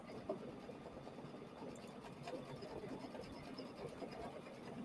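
An embroidery machine stitches a quilted table runner with a soft, continuous, rapid mechanical whirring and tapping, faint and steady throughout with no talking.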